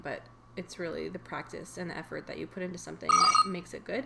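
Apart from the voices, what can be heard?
mobile phone ringing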